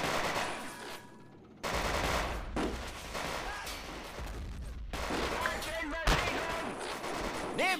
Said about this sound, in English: So my snipers are engaging.